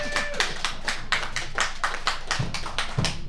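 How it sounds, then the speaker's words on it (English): An audience at the Australian Kong Off 2 finals claps, a steady burst of hand claps with distinct individual slaps, close and fairly loud, without talk over it. "Everybody give yourself a round of applause."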